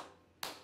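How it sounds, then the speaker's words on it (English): A single sharp hand clap lands near the end of a brief moment in a children's song, crisp and close after a faint fading tail of music. "clap your hands"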